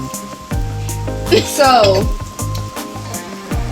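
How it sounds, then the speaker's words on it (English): Onions softening in a hot pan for a salmon and sweet potato shepherd's pie, with a close, steady sizzle and clattering stirs while someone talks over it. "we're gonna let the onions cook, you know, for about 3 minutes until they soft, tender"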